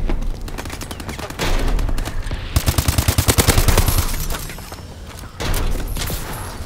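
Rapid automatic gunfire in a shooter video game, dense bursts of close, loud shots with a steady machine-gun rhythm in the middle stretch and scattered fire before and after, with no talking.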